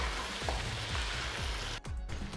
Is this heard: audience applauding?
no